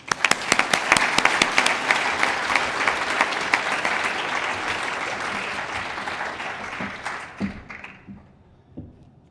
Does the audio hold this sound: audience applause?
yes